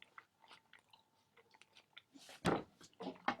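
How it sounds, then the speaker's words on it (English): Raw food wrap of greens being bitten and chewed up close, soft wet crunches and mouth sounds in an irregular rhythm, with one louder crunching bite near the end. "start chewing."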